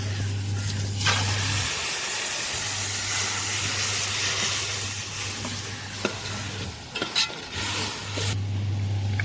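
Soaked kokum (kudampuli) goes into a sizzling Kerala fish curry masala for fried fish, with a steady close hiss and scraping stirring, a low constant hum underneath and a few sharp clicks near the end.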